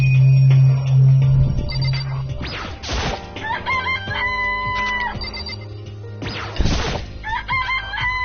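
A rooster crows in the Danganronpa game, two loud, strained cock-a-doodle-doo calls a few seconds apart, with clucks and scattered game sound effects in between.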